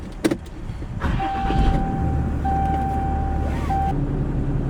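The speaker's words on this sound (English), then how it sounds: "the power steering pump is making a funny sound" A 10,000 lb tugboat's engine turns over and settles into a steady low rumble, with a thin, sustained whine from the power steering pump running over it, after a few brief clanks at the start.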